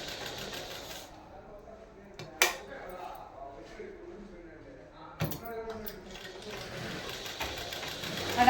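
A sewing machine stitches a dress neck in a quiet room, a low mechanical whir with a couple of sharp clicks and knocks, while someone talks over it.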